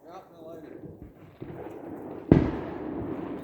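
Firework mortars are launched outdoors, a sharp loud thump followed by a lingering rumble, with people talking nearby.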